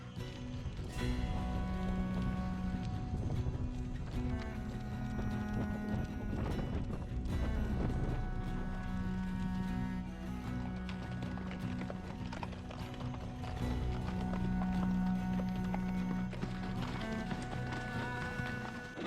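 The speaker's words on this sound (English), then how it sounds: "when you get like 100 horses running free with you" Many hooves pound in a dense, continuous drumming as a herd of about 100 free-running horses gallops close by, with steady background noise throughout.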